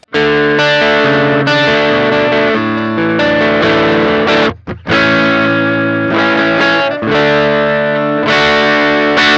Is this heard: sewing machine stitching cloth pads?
no